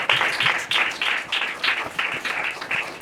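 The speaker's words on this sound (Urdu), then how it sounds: "زوردار تالیاں بجائے اس بات کی" Church congregation claps loudly in rhythmic bursts, roughly eight strong pulses of applause over a few seconds, close and clear with no talk over it.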